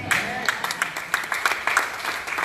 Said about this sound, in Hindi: आपकी तालियां अच्छी लग रही है